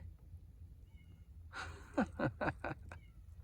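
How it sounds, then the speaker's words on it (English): A cat meows several times in quick succession inside a hot tent, close and fairly loud, each call short and rising, over a quiet low background hum. "Look at him, he's meowing."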